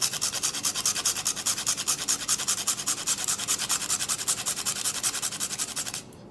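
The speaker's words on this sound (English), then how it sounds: "I'm gonna grate some nutmeg, fresh nutmeg into this." Fresh nutmeg grated into an egg, a steady rhythmic rasping of quick, even strokes close up for about six seconds, then stopping.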